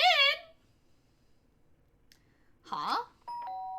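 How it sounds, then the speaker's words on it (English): A doorbell in the Danganronpa: Trigger Happy Havoc game gives a short, clear chime, set apart by silence from voiced game sounds before and after. "The sharp sound of the doorbell pierced my sleepy haze and pulled me back to the real world."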